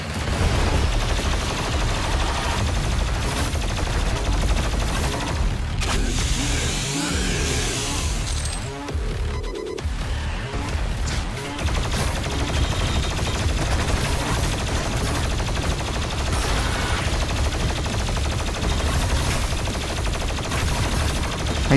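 Sustained heavy gunfire from weapons in the shooter Doom Eternal during a boss fight against Deag Ranak, loud continuous bursts of shots with blasts and rumbling impacts, briefly dipping midway before resuming at full intensity.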